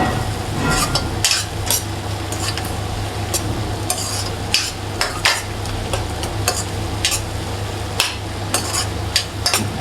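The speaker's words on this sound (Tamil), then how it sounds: "இப்போ எல்லாத்தையும் நம்ம இதை கலந்து விடலாம்." Pav bhaji masala in a pan is stirred and mixed with quick, repeated spoon scrapes and clinks over a continuous sizzle, close and fairly loud throughout.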